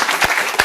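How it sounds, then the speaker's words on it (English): Studio audience applauding for the contestants on a comedy variety show, a brief dense burst of clapping that swells twice in under a second. "let's give a round of applause for the contestants"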